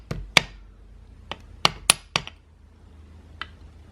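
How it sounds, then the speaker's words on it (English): A hammer taps a BMW X5/X3 transfer case actuator housing cover back into place, about eight sharp metallic knocks in an uneven sequence, close and crisp against a quiet background with no talk. "it may be necessary to use a hammer and a tap"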